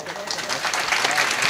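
Audience clapping during a Shivaji Jayanti special kirtan, a brief burst of crowd claps rising in strength over a second and a half.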